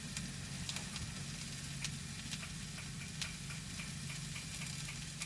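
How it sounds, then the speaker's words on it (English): Rice boiling in a pot on a Eureka camp stove, a faint, steady hiss and bubbling with light scattered ticks and pops throughout. "Rice is up to a boil."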